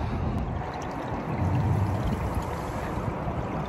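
Snowmelt runs off a roof in a steady outdoor rush like a small waterfall, a loud, continuous broadband splashing with no talk over it.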